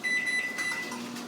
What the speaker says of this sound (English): pop it in the microwave for a couple minutes